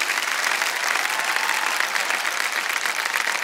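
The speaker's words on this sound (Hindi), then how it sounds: "ताली बजती रही" Studio audience on a quiz show applauding, dense, even clapping from a large crowd that holds steady and loud for the whole stretch.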